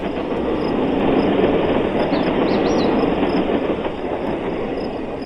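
Steady rumble of a model train with added audio effects rolling along the tracks, continuous and fairly loud, with faint high squeals over the noise.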